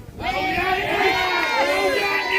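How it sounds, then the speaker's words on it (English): Crowd gathered at a street protest in Oldham, with a steady wash of many voices and shouting filling the whole stretch, loud and close throughout. "This is the biggest crowd I've seen in 3 years."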